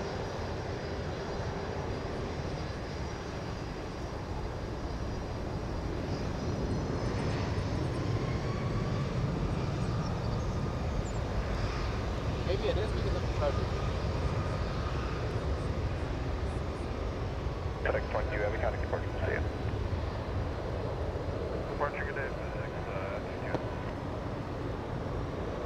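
An MD-11 jet takes off at Ted Stevens Anchorage International Airport, its engine roar a steady, broad rumble that holds throughout without voices.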